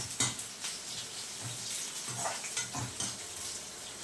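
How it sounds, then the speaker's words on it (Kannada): About twenty curry leaves frying in a little oil in a pan while cooking a bitter gourd fry, a soft continuous sizzle broken by spatula stirs and light clinks against the pan, close and quiet. "ಚೆನ್ನಾಗಿ ಫ್ರೈ ಹಾಕ್ತಾಯಿದೆ. ಆಮೇಲೆ ಕರಿಬೇವನ್ನು ಹಾಕ್ತಾಯಿದ್ದೀನಿ."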